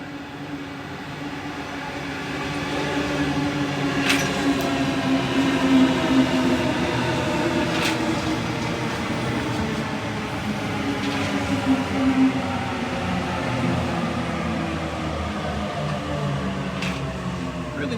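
Train running along a noisy rail line, a continuous rumbling roar with wheel and track noise heard from nearby, steady throughout with occasional sharp squeals.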